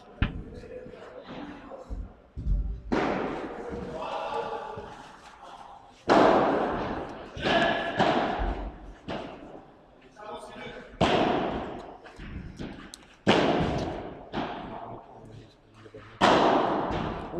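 Sharp padel ball smashes crack repeatedly through a doubles rally at the HPO 2018 tournament, with crowd noise and steady commentary talking over the play.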